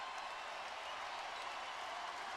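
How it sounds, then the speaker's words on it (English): A basketball arena crowd at an NBA playoff game, Magic at Cavaliers, cheers in a steady, distant roar with scattered clapping, fairly faint and unbroken throughout. "The crowd getting back into it."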